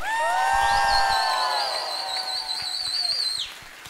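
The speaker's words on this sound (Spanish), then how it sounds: "¡Un grito de júbilo!" A crowd at a religious youth gathering cheers and shouts for joy, sustained high whoops and cries blending into one long, loud roar that rises early, then holds before fading, with a few whistles on top.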